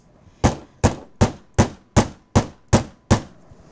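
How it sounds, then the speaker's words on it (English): A Big Bite tool is struck with a hammer to flatten a grommet, giving eight sharp, evenly spaced metallic blows at a steady rhythm, loud and close with no talking. "then once you've got it started, then you hammer it"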